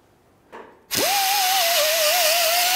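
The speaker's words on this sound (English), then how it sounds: "we're gonna use one of our air tools here just to clean off the surface here" Pneumatic air tool spinning up and whining steadily while cleaning the surface of an exhaust pipe on a 2011-2017 Honda Odyssey during catalytic converter replacement, loud and close, preceded by a short hiss.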